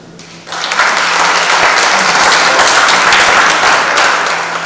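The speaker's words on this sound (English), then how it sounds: "he deserves a round of applause for that enormous achievement." A memorial lecture audience bursts into loud, sustained applause after a brief quiet moment, the clapping swelling quickly and staying full and dense to the end.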